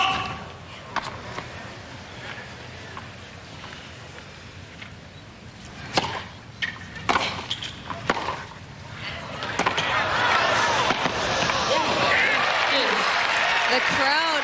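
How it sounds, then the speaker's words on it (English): A tennis crowd at the 1998 Acura Classic women's singles final reacts around match point. Scattered sharp ball strikes and claps build into sustained, swelling cheering and applause, with commentary running underneath. "The crowd trying to generate a lot of energy into Lindsay's racket"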